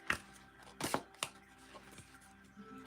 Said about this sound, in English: These are the largest cards that I have, so they're a little hard to shuffle correctly.